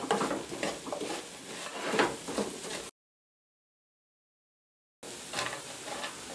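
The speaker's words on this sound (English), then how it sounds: "So I'm going to add my cinnamon now. And stir that in." A spoon stirs cinnamon into sugar-coated almonds in a pan, with steady close scraping and gritty rustling broken by a sudden stretch of dead silence before the stirring resumes.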